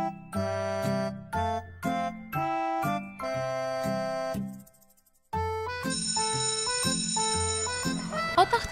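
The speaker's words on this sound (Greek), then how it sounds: "Όταν χτυπάει το κουδούνι, βγαίνουμε ήρεμα για διάλειμμα." Electronic school bell plays a bright chiming melody of repeated tones, loud and clear, with a brief pause before a second, busier run of chimes.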